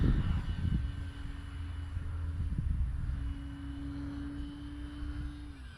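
The propeller engine of a radio-controlled Aeros Bigfoot model airplane drones steadily with a sustained buzzing tone, fairly close, over rumbling wind noise in a cow pasture.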